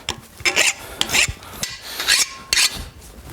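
Steel file rasping a bevel onto a forged steel cold chisel, a series of rough, scraping strokes in uneven rhythm, loud and close with short pauses between passes.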